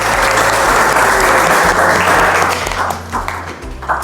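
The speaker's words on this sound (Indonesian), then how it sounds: "boleh diberikan tepuk tangan" Dense, steady applause from a university audience after a teaching presentation, many hands clapping together at full strength, then thinning and tapering off near the end with a low hum underneath.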